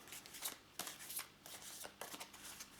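Tarot-style cards shuffled by hand for a reading, a run of soft, close riffling bursts in a quick uneven rhythm, quiet and without talk.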